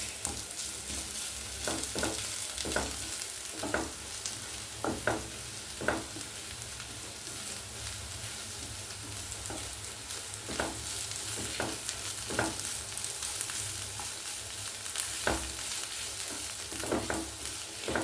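Chopped onions fry with crushed ginger in a pan for a Kerala-style pepper beef roast, a steady sizzle broken by repeated sharp scrapes of a spoon stirring at uneven intervals, close and fairly loud, with no talking.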